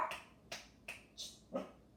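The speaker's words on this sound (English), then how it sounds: "there's a dog barking outside" A dog barks outside in short sharp bursts, five or so spaced barks at an even rhythm, faint and distant.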